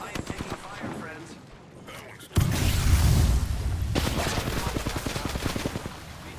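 Bursts of gunfire in an Apex Legends match, starting with a sudden loud blast and continuing as a dense, sustained run of rapid shots that fills the scene, alongside quieter game voice lines.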